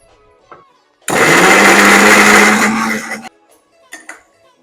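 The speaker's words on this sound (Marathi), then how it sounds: "हे सगळं आपण एकत्र मिक्सरला वाटून घेऊया" A kitchen mixer grinder whirs loudly for about two seconds as it grinds onion, tomato, garlic, ginger and green chili into paste, starting abruptly and cutting off, followed by a few faint clinks.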